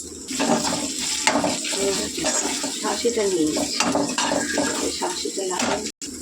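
Water poured into a hot pan of fried spices, ground coriander and cumin, making a loud steady rushing hiss with scattered clinks of a utensil against the pan throughout.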